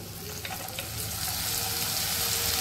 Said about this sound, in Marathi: भाज्या अशाच आपण परतून घ्यायच्या